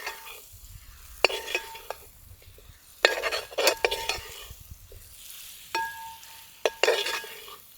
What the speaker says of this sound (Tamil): தேங்காவை போட்டு 2 பரட்டிட்டு அப்படியே அரைச்சிக்கலாம்.